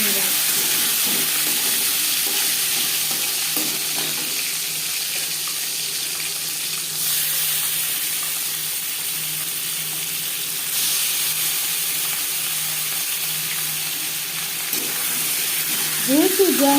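Live stinging catfish frying in hot refined oil gives a steady, even hiss and sizzle, close and constant, with a faint low hum underneath and small spits near the end.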